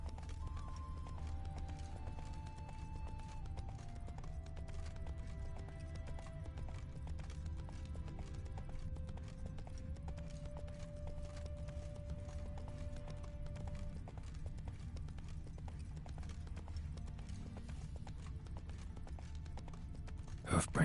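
Horse hooves clip-clop in a steady rhythm while riding in The Witcher video game, heard under soft game music and ambience.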